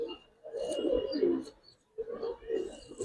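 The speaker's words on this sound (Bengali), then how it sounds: "এই এগুলো পুরান জাতের বাবরা কবুতর এগুলো এখন বিলুপ্তের পথে।" Old-breed Babra pigeons coo nearby in two soft, throaty bursts separated by a short gap, with faint chirps mixed in.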